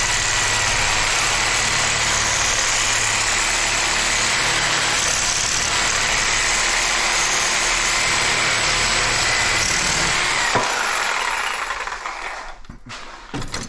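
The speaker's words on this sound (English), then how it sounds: "Sawzall blade works the best." A Sawzall reciprocating saw cuts the copper off a microwave magnetron, making a loud, continuous grinding buzz that runs steadily, then stops, leaving a few scattered clanks.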